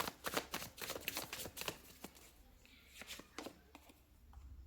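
Tarot cards are shuffled and drawn at close range, with quick papery riffles and flicks in an uneven rhythm followed by softer card handling, while a voice speaks quietly at times.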